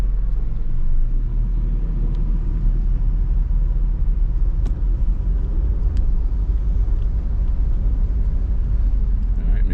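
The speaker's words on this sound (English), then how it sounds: "Put it in drive." A car pulls away and drives on Florida roads during a driving road test, heard from inside as a loud, continuous low engine and road rumble with a few faint clicks.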